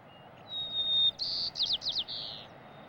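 A sparrow sings alone: a long clear whistled note, then a series of buzzy trills and quick slurred notes, moderately close over faint background hiss.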